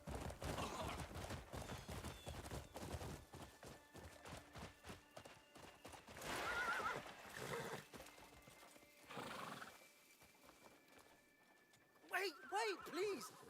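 A horse neighs and whinnies amid clip-clopping hooves in the video game Crimson Desert, with scattered gunfire bursts and a voice talking over much of it; the whinny rings out clearly near the end.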